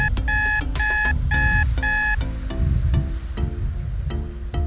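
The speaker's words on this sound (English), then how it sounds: "I reached deep into my pocket and I pulled out an alarm clock" A mechanical alarm clock rings loudly and close, a rapid metallic bell pattern in repeated bursts with short gaps that turns into scattered clangs toward the end.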